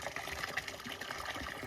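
Water runs steadily into a container, a faint continuous gushing and splashing with no voices over it.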